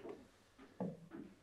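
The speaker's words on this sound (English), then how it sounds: "I just love that squeaky stairs." Wooden stairs in a Tuscan house creak as someone climbs them, giving a few short, faint, irregular creaks and groans spaced about half a second apart.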